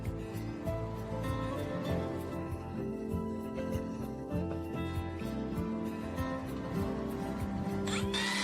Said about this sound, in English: pre-drill all the holes on the right rear door to 3-4 millimeters, only the outer sheet